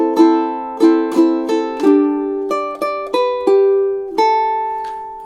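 Solo ukulele plays a theme, measures 14, 15 and 17, as clear plucked notes and strummed chords. The rhythm is steady with crisp attacks that ring out between strokes.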